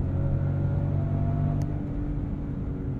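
A 2024 Range Rover Velar's inline-six engine holds a steady, hearty drone under throttle in the cabin without an upshift, and its pitch stays high and even throughout.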